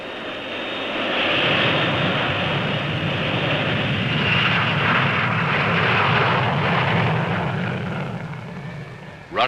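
A Russian bomber flies over Cairo West airfield, its engine roar swelling in, holding loud and broad for several seconds, then easing away at the end.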